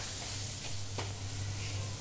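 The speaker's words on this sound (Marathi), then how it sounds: "हा मसाला मी आता 1 मिनटभर व्यवस्थित परतून घेणार आहे" Coriander masala sautéing in a pan, a steady soft sizzle with faint stirring scrapes throughout, one brief louder scrape near the middle, no talking.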